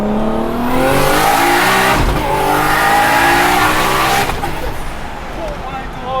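An 800hp Nissan R34 GT-R race car with an HKS RB28 engine and sequential gearbox accelerates hard on the street, its loud engine note climbing through gear changes, close and dominant, with occupants talking over it.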